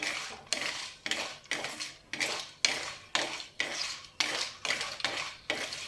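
Dried urad dal vadiyalu going into a cooking pot for an egg pulusu, heard as close, rhythmic clattering and scraping strokes about twice a second, with no talking.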